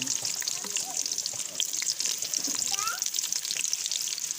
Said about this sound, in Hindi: ऑयल जो है वो हमारा गर्म हो गया। इसमें डालेंगे प्याज